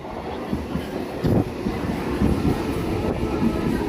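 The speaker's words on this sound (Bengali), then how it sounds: "এই দেখো ট্রেন কিন্তু চলে এসেছে আমাদের" A train arrives at Nandakumar station, rumbling close by with rhythmic clatter of wheels on the tracks, a loud, continuous mechanical roar with occasional clunks.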